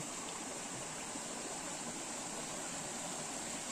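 A river flows beneath a bamboo bridge linking two villages, a steady, close, broadband rush of moving water that holds constant throughout with no voices.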